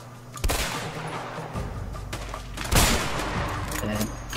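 Gunshots ring out in the A Way Out co-op game, several sharp cracks and a louder blast over a rumbling background, while players talk over the action.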